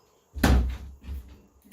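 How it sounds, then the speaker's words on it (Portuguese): A door shuts with a single solid thunk, then a softer knock and rattle as it settles, close by in an otherwise quiet room. "Fecha a porta, por favor."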